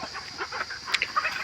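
Desi chickens on a poultry farm clucking inside a fenced enclosure, several short close-up clucks in quick succession with no voices.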